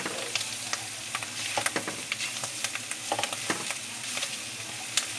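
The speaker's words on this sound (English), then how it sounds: "I want to cook the rest of the ingredients, especially the garlic and onion with the ham's oil." Garlic and onion sizzle and fry in rendered ham fat for a chicken carbonara, a steady crackling hiss with frequent small pops and occasional stirring clicks.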